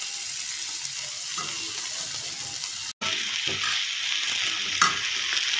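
Mustard seeds frying in a pan for ivy gourd sabzi, a steady broadband sizzle with occasional pops and stirring scrapes, continuous and fairly loud, with a brief dropout midway.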